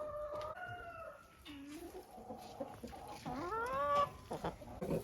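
Hens in their outdoor enclosure cluck and make drawn-out squawking calls, several birds close by, with rustling and a quiet voice in the background.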